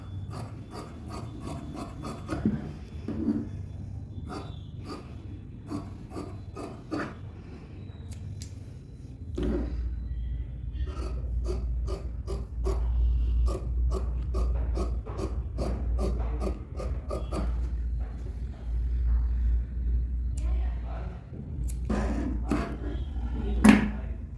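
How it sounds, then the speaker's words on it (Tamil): Scissors cutting blouse fabric for a 32-size blouse: a steady run of crisp snips and rasping blade strokes, near and fairly quiet, with a low hum rising under the later cuts. "இதை கட் பண்ணி எடுத்துட்றேன்."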